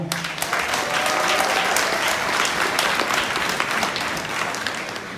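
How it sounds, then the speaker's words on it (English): Loud, full audience applause for piano players at a live event, many hands clapping steadily and evenly for several seconds with a faint voice at the start. "Give them a round of applause"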